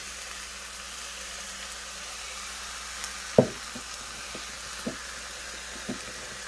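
Rice frying in a pan with soy sauce for chicken fried rice gives a steady soft sizzle. One sharp thud lands partway through, followed by a few light scrapes.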